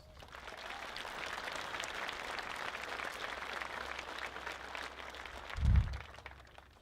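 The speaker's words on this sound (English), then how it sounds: "Please give that group a round of applause" An audience at a high school graduation ceremony applauds in a steady, even wash of clapping across a large hall, fairly distant and faint, with a brief low thump near the end.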